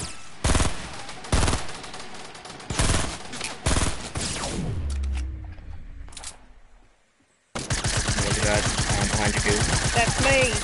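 Loud Fortnite gunfire cracks in sharp single shots and bursts, followed by a falling whine and a short silence, then a dense rapid volley of shots.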